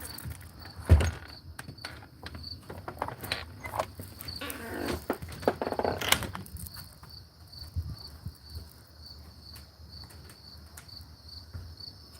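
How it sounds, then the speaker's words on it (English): A loud cricket chirps steadily at night in a high, continuous pulsing trill, with occasional thumps and rustling nearby and no talking. "Listen to that cricket. Be a loud one."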